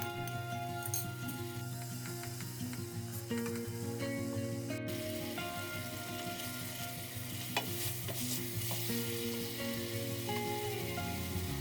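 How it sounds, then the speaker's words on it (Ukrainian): Onions with dried paprika sizzle steadily in a hot pan, with occasional stirring scrapes and a faint clink, continuous and close. "Додаємо сушену паприку і смажимо 6 хвилин."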